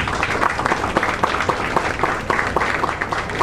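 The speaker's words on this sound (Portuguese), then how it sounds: "Un aplauso para el lema." Audience at a carnival press conference applauds the carnival motto, a dense, steady wash of many hands clapping with distinct individual claps standing out, sustained and fairly close throughout.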